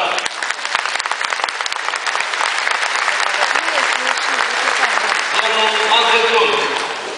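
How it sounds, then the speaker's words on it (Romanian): Dense, sustained audience applause in a large hall during a political speech, a loud continuous wash of clapping that holds for several seconds, with a voice and faint tones emerging near the end. "Să te aplaudăm încă o dată."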